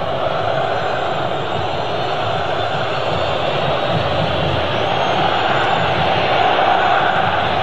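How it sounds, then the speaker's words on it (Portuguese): Corinthians supporters roar and chant inside the packed Maracanã stadium during a 2002 Brazilian league match against Fluminense, a dense, sustained crowd wall of voices steady and loud throughout. "Esse grito é da galera do Corinthians"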